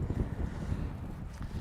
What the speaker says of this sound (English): it's a little windy here today, so whatever questions get blown away aren't getting answered